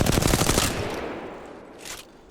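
A dense burst of automatic rifle fire in Apex Legends, a rapid rattling stream of shots for most of a second, then a short tail of echo and a faint later shot.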